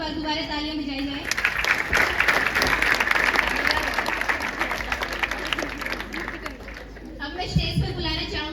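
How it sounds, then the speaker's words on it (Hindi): An audience at a community stage event claps again after a performance: a voice speaks briefly, then loud dense applause with crowd chatter swells for several seconds before her voice returns near the end. "एक बार दोबारा तालियां बजाई जाए।"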